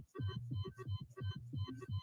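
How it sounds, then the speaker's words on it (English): A game show heartbeat sound effect pulses in steady paired thumps, about two beats per second, close and moderately loud, with no voices over it. "You hear that sound, right? That's your heartbeat racing a bit."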